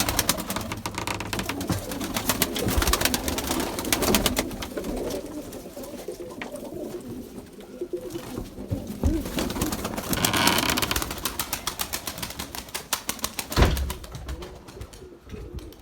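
Pigeons coo softly amid a gusty, stormy, windy outdoor background with rustling and occasional knocks throughout.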